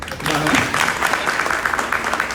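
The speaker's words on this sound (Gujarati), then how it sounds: "તાળી તો પાડો યાર" Audience applause at a Gujarati talk for students heading to college after Class 12, a steady wash of clapping from a crowd lasting a couple of seconds, fairly loud and even, with a little voice mixed in.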